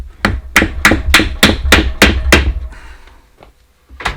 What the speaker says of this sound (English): I use a plastic hammer so I don't mess up the surface.